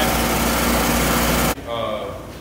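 A big drywall texture mud pump sprayer runs outside, a loud steady engine-like drone that cuts off abruptly after about a second and a half, followed by someone talking.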